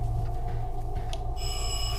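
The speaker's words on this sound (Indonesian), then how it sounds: "Kok ada suara telepon sih?" A telephone rings inside a game apartment, its electronic tone bursting in steady harmonic bands over a constant low hum and dim background noise, clear and fairly near.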